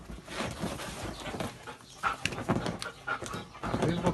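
Police detection dog panting and sniffing close by during a search of a pillow, with quick breathy bursts and a few soft whines, no voices over it.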